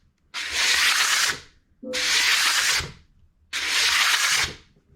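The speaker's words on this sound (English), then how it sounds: "doing a quick resurface like this. So this is just checking the surface." An abrasive is rubbed by hand across the surface of a 350 small-block Chevy cylinder head. Three separate sustained gritty strokes, each about a second long, sound close and loud with short pauses between them.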